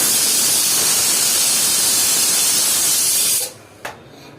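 A pressure cooker whistle cooking khichdi releases a loud, steady hiss of steam for several seconds, then cuts off abruptly, followed by a brief clink.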